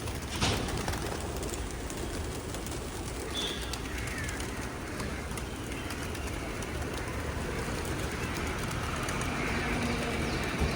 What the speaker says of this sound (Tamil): எப்பயுமே பாம்பேயில் வந்து பார்த்திங்கன்னா இந்த ஸ்பாட்டில் நிறையா புறா இருக்கும்